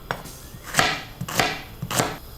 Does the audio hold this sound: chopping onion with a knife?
yes